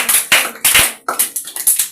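A short burst of hand claps from a small group of people learning to make bean cakes, uneven and close, coming in several quick clusters with no talking.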